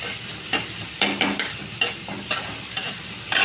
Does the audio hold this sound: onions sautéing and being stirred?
yes